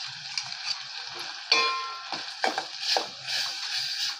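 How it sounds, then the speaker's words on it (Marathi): Wet ground coconut paste sautéing with tomato in oil over a low flame for a Maharashtrian sambar, giving a soft steady sizzle with intermittent scraping and clinks of a spoon stirring in the pan. "ते सुद्धा छान परतून घेणार आहोत बारीक गॅसवर।"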